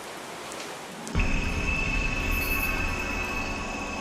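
Dense, steady roar of heavy rainforest rain that starts abruptly and keeps pouring, with a constant high whine running through it.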